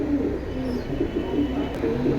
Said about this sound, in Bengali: একদম অ্যালুমিনিয়াম প্যাটার্নের কবুতর দেখেন